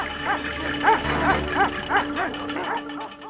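A loose livestock guardian dog protecting its flock barks repeatedly in a steady run of sharp, close, aggressive barks over low background noise.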